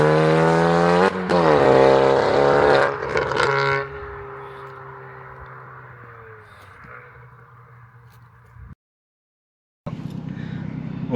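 A Hyundai i20 N engine revs hard and climbs through the gears, exhaust growing loud as its valve opens above 3,000 to 4,000 rpm, then easing off and dropping away before a brief cut.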